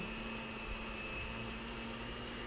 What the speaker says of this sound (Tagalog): Ayan, medyo maingay-ingay tayo kasi naka-blender po tayo.